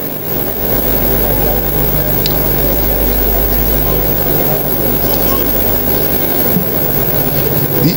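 Super Tucano turboprop training aircraft fly in formation, their engines a continuous, even drone heard from a distance beneath someone narrating.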